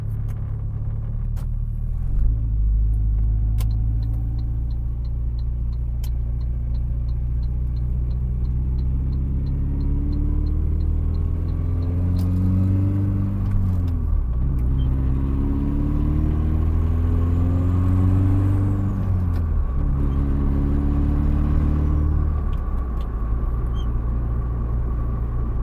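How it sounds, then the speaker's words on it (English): Saab 9-5 Aero engine running to warm up, a steady low rumble with rising and falling revs heard up close and continuously, with a faint whine and a few clicks, no talking. "We will run it and get some heat into the engine at first."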